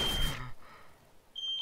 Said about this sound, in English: Whose fire alarm is that?